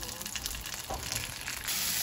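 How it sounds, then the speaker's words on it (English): Butter sizzling in a hot frying pan while grilled cheese sandwiches are being made, a steady crackling hiss with no talking. "now I'm going to start on mine and put some butter in the pan"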